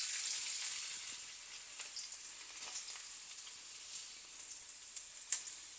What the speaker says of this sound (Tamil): இப்போ இது அப்படியே இந்த எண்ணெயில் ஃப்ரை ஆகி கொண்டு வரட்டும்